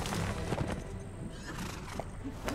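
A horse in the video game Dark Parables gives a short whinny amid hoof clatter, a brief rising neigh layered over busy game sounds, fairly close and loud, without speech.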